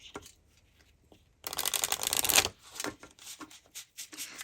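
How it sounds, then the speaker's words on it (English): Tarot cards are shuffled by hand: a dense, loud riffle burst followed by softer irregular card slaps and rustles, close and without talk. "I'm also going to be shuffling out cards."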